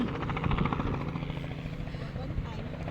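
A helicopter circles overhead outdoors at a tulip garden outing, its steady rotor drone running through the whole stretch with people talking nearby.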